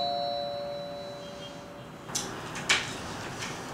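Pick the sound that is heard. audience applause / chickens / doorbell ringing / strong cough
doorbell ringing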